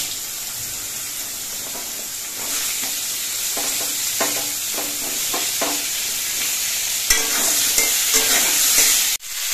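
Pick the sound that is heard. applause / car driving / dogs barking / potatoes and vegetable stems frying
potatoes and vegetable stems frying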